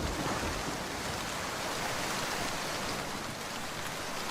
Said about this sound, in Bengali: কবে কমবে এই বৃষ্টি কে জানে